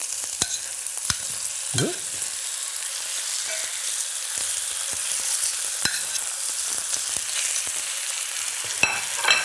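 Seasoned chicken pieces laid into smoking-hot oil in a pan for Roman chicken, giving a close, steady sizzle broken by sharp pops and crackles, with one short spoken word.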